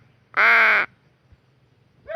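A single loud, harsh caw from a crow rings out clearly, then quiet, with the start of another call at the very end.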